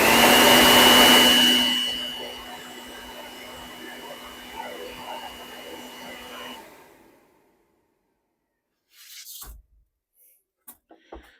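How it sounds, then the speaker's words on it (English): A leaf blower roars loudly through a dryer vent tube, then drops to a steadier whooshing hum. It cuts off around seven seconds, followed by silence and a few faint clunks. "go ahead and turn the leaf blower on"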